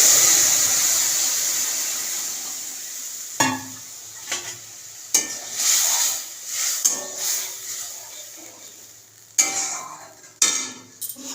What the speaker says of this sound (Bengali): আর এদিকে করছি ডালটা ফোড়নে দিচ্ছি যেহেতু সেদ্ধ হয়ে গেছিল